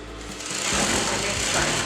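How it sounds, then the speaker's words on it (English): Sewing machine running steadily as it stitches a tote bag up to a marked point, a close, continuous motor buzz for about two seconds. "sew exactly till the marked point"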